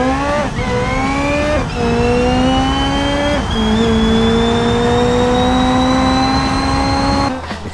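Ibishu Covet drag car on a drag run in BeamNG, its engine screaming loud and close as it climbs through the revs, with sharp drops at each of several gear shifts, then cutting off at the end.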